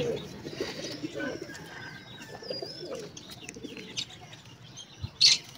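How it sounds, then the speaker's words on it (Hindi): A pigeon caught in a person's hands coos softly and gives a few chirps, with a brief flap or scuffle near the end. Faint rustling and background noise run throughout. "दानिश जो है ना जो कबूतर पकड़ा है इसको, इसके पर जो है सारे उखेड़ रहा है"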